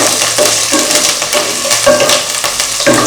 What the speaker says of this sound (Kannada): ಇವಾಗ ಮೆಣಸಿನ್ಕಾಯಿ ಕರಿಬೇವು ಚೆನ್ನಾಗಿ ಫ್ರೈ ಆಗಿದೆ